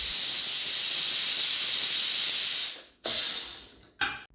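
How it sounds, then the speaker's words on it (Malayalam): Loud, sustained hiss of steam escaping from a pressure cooker after cooking lentils and vegetables, cutting off near the end and followed by two shorter bursts. "ഇപ്പോൾ കുക്കറിൻ്റെ ആവിയൊക്കെ പോയിട്ടുണ്ട്."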